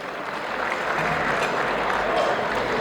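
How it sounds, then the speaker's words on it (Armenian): Warm applause from wedding guests greeting the bride's friends, a steady dense patter of clapping filling the whole stretch at close range, with some crowd murmur beneath it. "Ողջունում ենք նաև Արփինեի ընկերների նույնպիսի ջերմ ծափահարություններով։"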